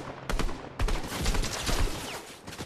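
Rapid gunfire bursts from Fortnite Mobile played on an iPhone 15 Pro Max, with several loud volleys of shots in quick succession and overlapping echoes.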